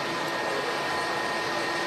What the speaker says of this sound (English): And the noise you can hear is this Turkish Airlines A321 in from Istanbul, flight 1991.